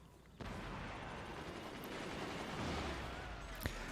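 Gunners and a sniper firing in a King of the Fort tournament match on a video game livestream, a dense continuous wash of distant gunfire with a sharp crack near the end.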